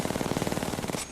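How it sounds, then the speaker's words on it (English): Apex Legends R99 SMG submachine gun fires one rapid continuous burst of about a second, loud and close, with tightly spaced shots before a clean stop. "This is the R99 SMG."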